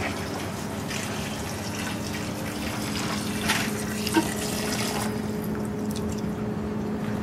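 Aquarium water pours and splashes into a bucket in a steady, continuous liquid rush, close up, with a few brief sloshes along the way.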